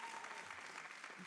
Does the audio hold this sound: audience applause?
yes